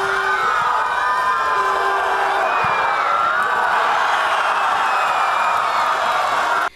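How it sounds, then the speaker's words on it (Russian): Football fans in a stadium crowd roar and cheer after their team Nart scores a goal. The cheering forms a loud, sustained wash of shouting and whooping from many voices throughout. "Болельщики ликуют и скандируют «Ура, Нарт!»"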